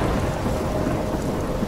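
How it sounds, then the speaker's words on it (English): Storm ambience from the Life Is Strange video game, a steady loud wash of rain and low rumbling thunder filling the short stretch without pause. "I'm trapped in a storm?"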